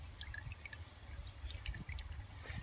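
Wax and water dripping and trickling off a duck just dipped in hot wax, a steady quiet patter of small drips with a low liquid rumble underneath and no talking.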